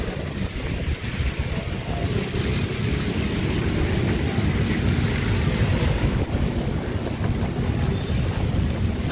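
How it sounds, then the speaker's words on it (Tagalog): Strong, steady wind in a rainstorm roars and buffets the microphone throughout, a constant heavy rush with no pauses, beside the Marikina River floodway in the Philippines. "at ang hangin nililipad po yung payong"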